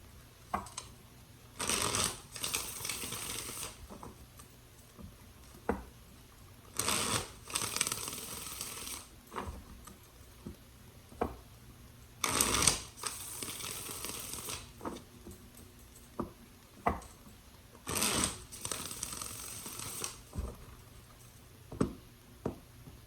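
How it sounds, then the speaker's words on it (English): Tarot cards shuffled by hand, repeated bursts of riffling and patting, close and fairly quiet, with short pauses between the shuffles. "Alright, 3 more shuffles."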